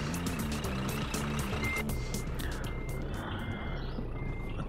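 A truck in the Scania Truck Driving Simulator video game backs up, its reversing alarm beeping steadily and evenly over a constant low engine drone, with no speech.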